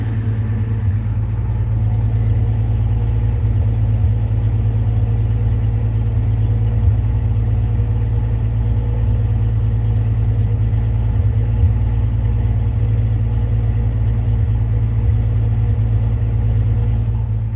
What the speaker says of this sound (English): I'm not sure if you guys can hear that miss or not, you know, but it actually idles pretty smooth.